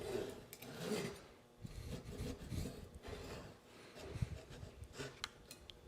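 Wood is cut for cuffed feet on furniture legs, giving a faint, uneven rasping with repeated scraping strokes close by and no talk.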